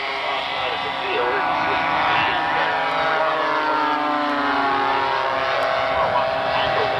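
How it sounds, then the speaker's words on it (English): Model aircraft in a left-to-right flyby over a field on a windy day, a steady engine drone that swells and shifts pitch as it passes, with a voice talking over it. "Notice on the left to right flyby against the clouds, how realistic"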